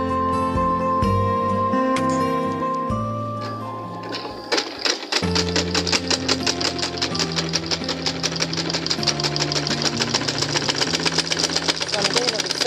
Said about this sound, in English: So I'm going to be sewing it now.